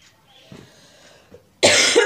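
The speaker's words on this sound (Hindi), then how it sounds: "खांसी अभी तक गया नहीं मेरा।" One person gives a single sharp cough near the end, loud and close, after a few quiet seconds with faint breathing and a small throat noise.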